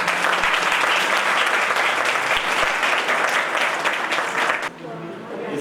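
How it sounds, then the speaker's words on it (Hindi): A Jain pilgrimage-site felicitation audience gives dense, loud applause for the trust board; the clapping stays steady for several seconds, then drops off sharply into a quieter room. "तालियां होनी चाहिए"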